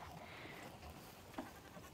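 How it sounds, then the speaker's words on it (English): A goat bleating in a farm pen, one short faint bleat amid quiet outdoor background noise. "Just a pure goat."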